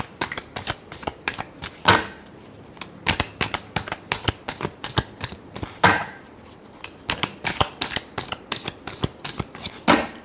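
Tarot cards being shuffled by hand, a fast run of crisp riffling flicks and slaps repeating through the whole stretch, with louder riffle bursts at intervals, close and without any talk.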